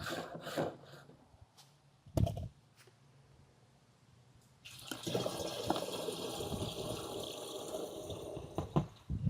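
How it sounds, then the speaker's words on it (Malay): Mixed liquid being poured into a pump sprayer, a steady splashing rush starting midway after a few knocks and handling noises. "Okey, lepas tu kita tuang je dalam pump."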